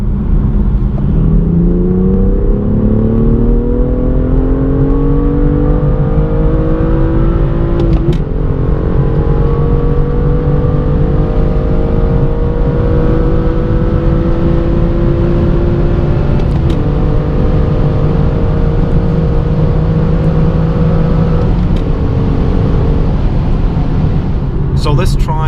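A manual BMW M2 LCI accelerates hard from 100 to 200 km/h on the Autobahn. The engine note climbs loudly and steadily in pitch through several gears, and brief dips mark each shift, with heavy road and wind roar underneath.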